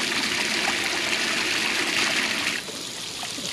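Steady hose water sprays and splashes while washing paint off a rattlesnake, a continuous close wash that dips briefly near the end before resuming.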